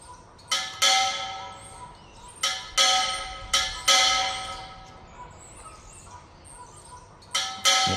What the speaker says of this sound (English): Okay, anvils are way too loud.